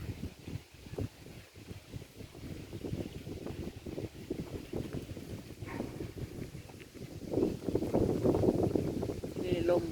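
Gusty wind at a small lake roars and buffets against the microphone in a continuous low rumble, growing stronger toward the end.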